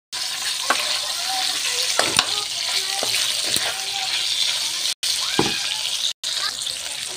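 Ingredients for chicken biryani frying in hot oil until golden brown, a loud, steady close sizzle with occasional stirring scrapes and two brief cut-outs.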